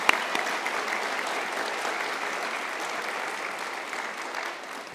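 Sustained audience applause fills a university conferring ceremony, a dense, even wash of clapping hands from a large crowd that holds steady for several seconds before tapering slightly at the end.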